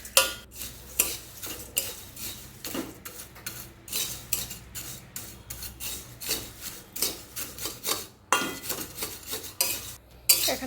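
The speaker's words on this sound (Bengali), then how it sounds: "এটাকে আমি ভালোভাবে নেড়ে নেব।" A spoon scrapes and stirs spiced flattened rice (chire bhaja) tossed with nuts, turmeric, salt and cardamom powder in a metal pan, giving steady, close rasping strokes in an uneven rhythm with no talk.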